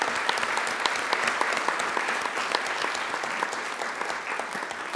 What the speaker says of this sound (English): join me with giving them another round of applause.